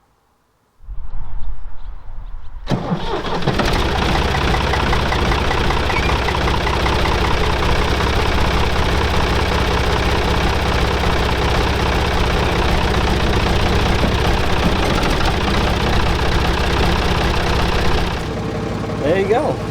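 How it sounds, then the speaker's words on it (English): An old Ford 555 tractor engine cranks briefly, catches and settles into a loud, steady, even idle with a low knocking rumble, running close by for most of the stretch before easing slightly at the end. "Fires right up and runs nice and smooth and even fairly quiet for what it is."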